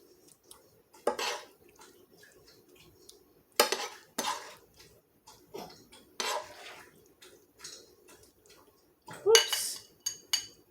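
A metal utensil scrapes and clinks against a pan while ground beef stroganoff is served up in a kitchen, with several sharp, scattered knocks and scrapes over a quiet background.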